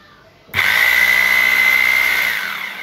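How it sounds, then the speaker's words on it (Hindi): A DCA electric drill with a power button fault starts abruptly and runs at a steady high whine, loud and close, holding an even pitch for a couple of seconds before slightly easing off. "मैं ड्रिल को पकड़ के चलाता हूँ।"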